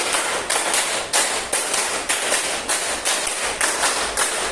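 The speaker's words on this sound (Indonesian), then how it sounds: "tepuk 5 3 kali" A classroom of students claps in unison, sharp group claps repeating in short even bursts, loud and close, with no talking over them.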